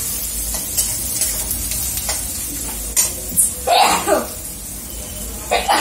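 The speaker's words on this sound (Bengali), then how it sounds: "রসুন পেঁয়াজটা ভেজে নিই ভালো করে" Garlic and onion fry in butter in a pan for pav bhaji, giving a steady close sizzle broken by a few louder hissing bursts as the pieces are stirred.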